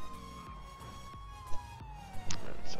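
Police car siren in the GTA V video game, a steady wailing tone that slowly falls in pitch, with sharp knocks and thuds scattered over a rumbling engine and road bed.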